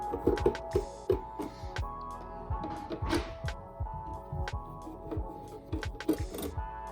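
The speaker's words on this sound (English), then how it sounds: "we'll start by removing these two screws, Phillips screws here." Phillips screws are backed out of an Akai MPC1000 sampler, giving quiet, close clicks and small metallic ticks in an irregular run against a faint hum.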